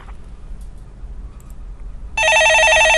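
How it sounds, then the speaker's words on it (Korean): A telephone on a radio call-in show starts ringing partway through, a loud steady electronic trill breaking in over quiet studio hiss, with no talk. "예, 전화 받아보겠습니다."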